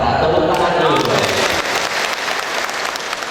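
A crowd at a teachers' association Halal Bi Halal gathering in Banyuasin bursts into loud, sustained applause, with some cheering and background voices mixed in as the clapping slowly tapers.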